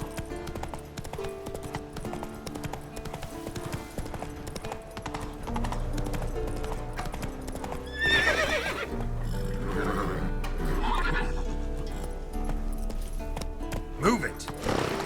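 A horse in the video game The Witcher 3: Wild Hunt gallops with rapid rhythmic clip-clopping hoofbeats and neighs loudly several times. A low droning game score plays underneath, and a rider's voice calls out over the hooves.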